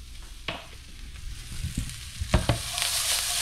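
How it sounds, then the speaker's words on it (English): Onions fry in a pan with a steady hiss and sizzle, broken by a few sharper pops and stirring clatters. "now that we've got our onions cooked,"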